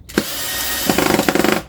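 A power drill drives screws into a wooden DIY float frame for canvas art: a short burst of whirring, then a steady motor whine that ends in a series of quick ratcheting clicks from the clutch, close and loud.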